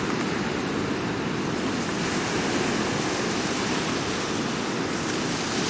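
Big set of ocean waves breaking at a Sumbawa surf break, a loud, steady wash of churning surf and whitewater roar filling the whole stretch with no pauses.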